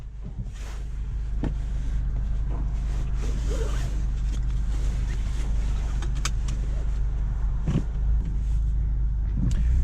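An Audi S3 convertible drives with the roof off: a low, steady engine and road rumble with wind buffeting and occasional clicks and bumps inside the cabin, no talk.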